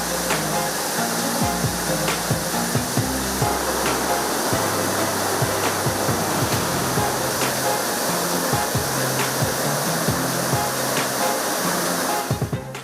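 Surlabbi waterfall in Somwarpet taluk of Kodagu, Karnataka, a roadside falls, gives off a dense, continuous roar of rushing, spraying water, loud and close, with faint thuds and knocks now and then.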